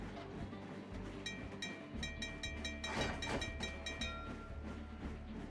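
Game sounds from Train Crisis as a red train moves along the track: a steady low rumble with repeated clicking rail-like ticks and tonal chimes, continuous at moderate loudness with no talk.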